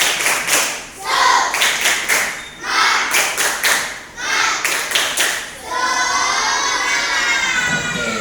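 A class of children does rhythmic spirit clapping in quick patterns with bursts of shouting, then breaks into loud cheering and applause.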